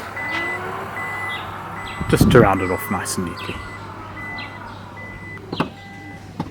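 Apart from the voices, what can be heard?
Isuzu MU-X powered tailgate closing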